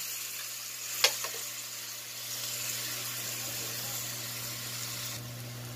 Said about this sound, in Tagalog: Lutuin lang muna natin yung giniling natin guys.